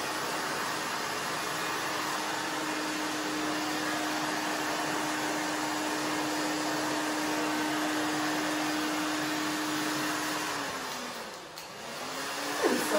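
A hair dryer runs steadily at close range while drying a very short pixie haircut, a constant whirring blow with a steady hum, which shifts and dips near the end as the dryer is moved or switched.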